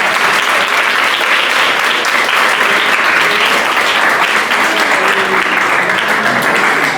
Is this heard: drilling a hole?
no